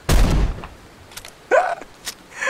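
Velociraptor island video game gunshot: one loud, booming blast opens, followed by quieter scattered clicks and creaks.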